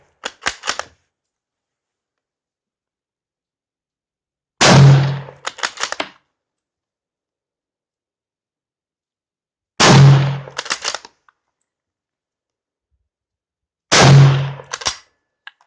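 Yugoslavian M48 Mauser rifle firing at an outdoor range: three loud, sharp single shots spaced about five seconds apart, each followed by bolt-working clicks, with a quieter burst of clicks at the start.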